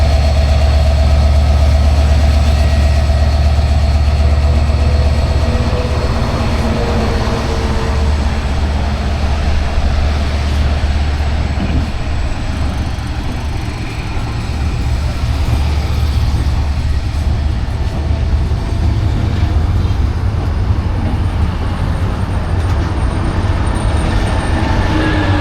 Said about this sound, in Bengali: আমাদের এই রাজশাহীগামী ট্রেনটি মধুমতি এক্সপ্রেস আমাদের বিদায় জানিয়ে এখন চলে যাচ্ছে তার নিজস্ব গন্তব্য রাজশাহীতে।